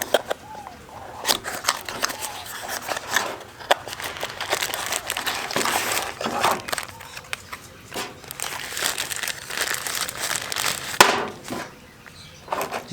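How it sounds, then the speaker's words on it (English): Headlamp packaging is unboxed by hand, with a busy stretch of close crinkling plastic, rustling cardboard and small taps and snaps, continuous and fairly loud. "let's unbox this really quick and try them out"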